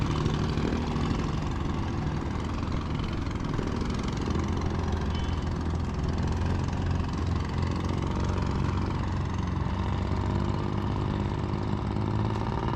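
A small fishing boat engine idles steadily on Taal Lake, a loud, continuous low droning hum that holds without change throughout, with no voices.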